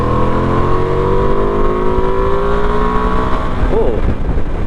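Ducati Multistrada V2S motorcycle engine pulling hard in fourth gear from about 4000 rpm, a loud continuous droning roar with rising pitch, heard close with wind noise.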